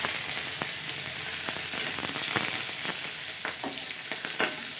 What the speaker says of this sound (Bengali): তেলের মধ্যে একটু হিং ফোড়ন দিয়ে দিলাম, সাথে কিছু চেরা কাঁচা লঙ্কা দিয়ে দিয়েছি।